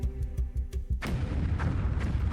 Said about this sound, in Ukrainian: порох у скелі вибухнув раніше, ніж мав би